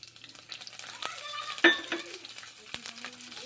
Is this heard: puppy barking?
no